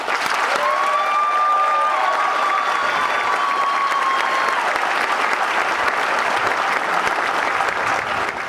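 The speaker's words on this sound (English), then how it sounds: "My applause to you." Commencement audience at a county community college applauding students, a dense, steady wash of loud clapping that fills the whole stretch, with a faint whistle-like tone near the start.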